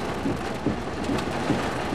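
Steady heavy rain pours during a severe thunderstorm with strong winds and hail threatening, a continuous close wash of downpour with faint low rumbles of thunder beneath it.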